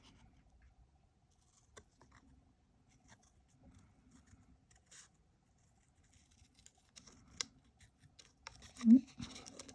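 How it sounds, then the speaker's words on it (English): Quiet, scattered snips of scissors cutting paper card pieces, with soft rustling and a louder cluster of cuts near the end, close up. "I'm going to snip this little bit off first"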